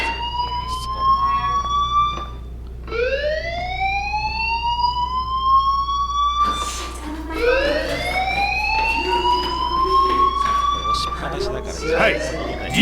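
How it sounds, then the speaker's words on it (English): A school fire alarm in the video game Life Is Strange sounds as rising electronic whoops, repeating loud and close, with people talking over it. "hear that fire alarm? That means you should be outside."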